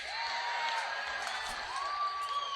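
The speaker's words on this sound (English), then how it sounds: "Please give another round of applause for Reg and Andreas" Faint, distant crowd noise from a live music event audience, with a couple of whoops rising above a broad, even wash of cheering and clapping.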